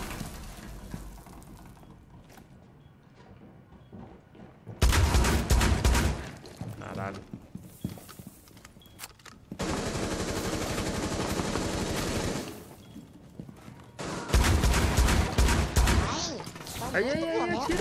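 Loud automatic weapon bursts in Rainbow Six Siege, several sustained sprays of rapid fire separated by quieter moments of footsteps and mechanical clicks, with voices talking between.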